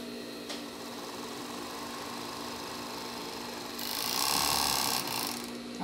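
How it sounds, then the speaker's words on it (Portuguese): A sewing machine stitches a lace panty, running in a steady mechanical whir that grows louder and faster in a burst near the end, with no talk. "Vamos costurar outra parte também, viu, meninas?"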